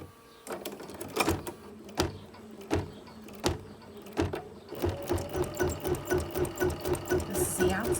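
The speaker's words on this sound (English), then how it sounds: "Now I'll put it back in the machine and start the satin stitch" A sewing machine running a satin stitch along the edge of a quilted mug rug, first in a few spaced mechanical clunks, then a steady rapid rhythmic whirring pulse, nearby and moderately loud.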